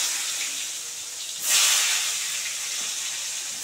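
Brinjal slices fried one at a time in hot white oil give a steady, close sizzling hiss that surges briefly and louder partway through, then settles back to an even fry.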